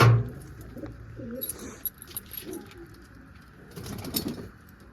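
Soft pigeon coos come and go over a low outdoor hum, with a few faint clinks and rustles nearby.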